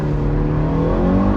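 A loud mid-engine car engine revs steadily up close in first gear, a sustained buzzing growl with rising pitch, no voices.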